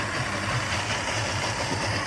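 A car engine turns over and runs at a rough, low idle, a steady rumble with some vibration and a bit of noise. It carries on for the whole stretch without pausing, and nobody speaks.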